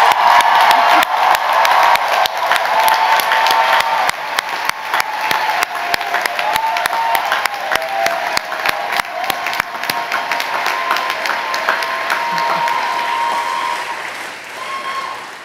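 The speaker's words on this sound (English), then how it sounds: "can we give just an incredibly loud and spirited welcome round of applause for our new president?" A large convocation crowd at Columbia College and Columbia Engineering gives loud, sustained applause with cheering and whoops to welcome a new president, dense clapping filling the room for about fifteen seconds before easing slightly at the end.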